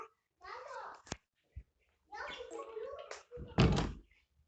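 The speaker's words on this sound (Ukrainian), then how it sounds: "Так, той закрив знову двері." A door closing in the Roblox parkour game, heard as a couple of short thuds among a voice talking.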